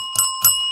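A bell rings twice in quick succession during a live show, each ring a bright, close metallic strike that briefly hangs on.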